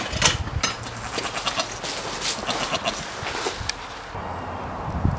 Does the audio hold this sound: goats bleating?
yes